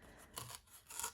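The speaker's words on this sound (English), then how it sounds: "you can always tear more off if you don't get it all in the first try" Paper being torn by hand for a garden journal, heard as two short, close rasping tears separated by a brief pause, with no talking.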